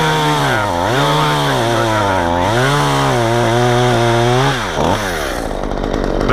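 A chainsaw fitted with a freshly sharpened but damaged chain missing a tooth cuts into a maple tree during its removal, loud and close, the engine pitch dipping and rising repeatedly under load.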